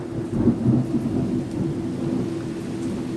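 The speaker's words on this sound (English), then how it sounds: "A big old thunder there." A low, rolling thunder rumble with rain falling, steady and fairly loud, without any talk over it.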